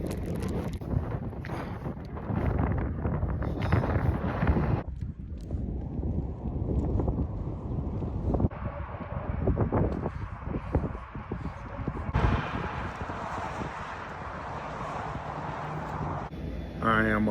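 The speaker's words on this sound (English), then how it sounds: "The wind is blowing my bike so strong." Strong wind buffeting a bicycle and its rider on a long-distance road ride, a loud continuous roaring rush against the microphone that shifts in strength throughout, close and heavy.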